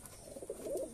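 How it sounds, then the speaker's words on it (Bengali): Fancy pigeons such as Bihari and Shahjahanpuri breeds coo softly in a short, faint, low murmuring burst with no talk over it. "খুব ভালো কোয়ালিটির পায়রা রয়েছে"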